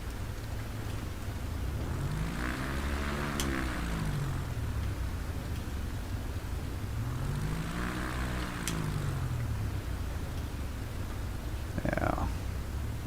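A small propeller plane's engine drones steadily from inside the cabin, its pitch sweeping and beating in slow waves, with a faint brief chirp near the end.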